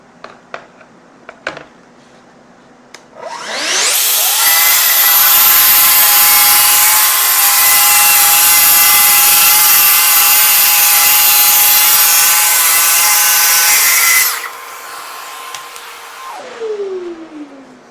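A power saw spins up and cuts a wood mitre at 46 degrees for about ten seconds, a loud continuous whine with a dust vacuum's rushing hiss, then winds down.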